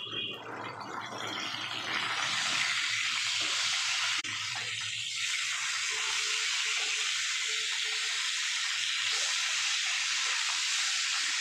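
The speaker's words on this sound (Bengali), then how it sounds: "তো বন্ধুরা দেখুন, মাছগুলোকে ঠিক এইভাবে ভাজা করতে হবে।" Pieces of catla fish fry in a pan with a continuous loud hiss and crackle of hot oil, close and steady throughout, with slight shifts in intensity and no one speaking.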